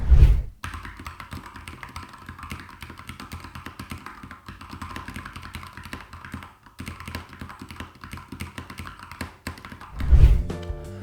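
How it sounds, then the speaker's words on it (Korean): Typing on a mechanical keyboard fitted with red linear switches of about 45 g actuation, giving a steady run of close, fairly loud keystrokes with a heavier thump at the start and end. "지금은 적축으로 스위치를 모두 바꿨습니다. 그럼 타건 들어보시죠."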